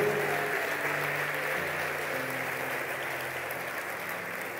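A congregation claps in praise of God during a sermon, dense and steady applause over a low sustained musical tone, holding evenly throughout.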